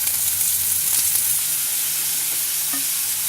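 Yam slices fry in hot oil, giving a steady loud sizzle with a few soft stirring clinks throughout.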